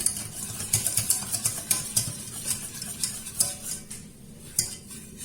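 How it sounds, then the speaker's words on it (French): Melting chocolate glaze for a Christmas yule log being stirred, a steady series of light spoon-against-bowl scrapes and taps in a quiet kitchen, close and rhythmic with no voice. "On n'arrête pas de mélanger jusqu'à ce qu'il y ait tout le glaçage, tout le chocolat, pardon, qui soit fondu"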